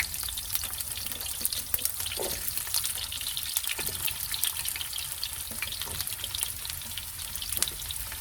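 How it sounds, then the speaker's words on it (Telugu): Small bitter gourds fry in hot oil with a steady, crackling sizzle that stays even and close throughout, with no talking. "నూనె వేడెక్కింది. ఇప్పుడు కాకరకాయలు వేయించుకోవాలి."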